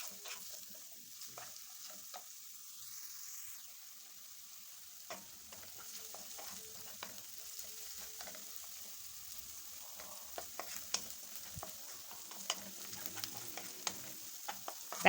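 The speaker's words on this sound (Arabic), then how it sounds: "هشوحها كده لحد ما البصلة تدبل معايا." Diced onion sautés in a pan, a faint, quiet sizzle broken by scattered clicks and scrapes of stirring, with the scraping growing slightly busier toward the end.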